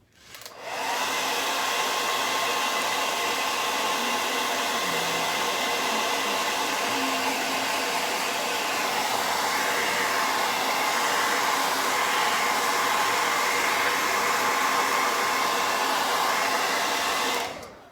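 A hair dryer blows steadily for about seventeen seconds, drying paint on a wooden football helmet porch sign, starting and stopping abruptly with a loud, constant close-up whoosh and no talking.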